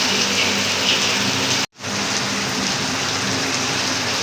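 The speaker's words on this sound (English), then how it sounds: "Heavy rain." Dense, steady rain roars close by, with one brief dropout partway through before the downpour resumes at full strength.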